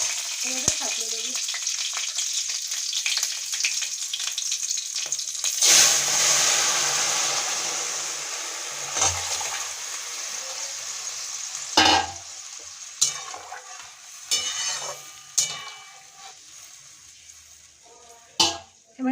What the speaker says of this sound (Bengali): এক চামচ মতন কালো জিরে দিল ফোড়ন।